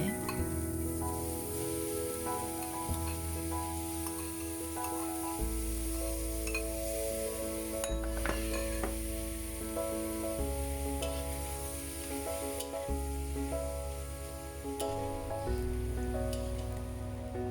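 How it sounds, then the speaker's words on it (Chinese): Shrimp stir-fry in a pan over medium heat, a steady soft sizzle running continuously beneath a melodic music bed, with an occasional clink partway through. "耐心地用中火将虾慢慢炒香"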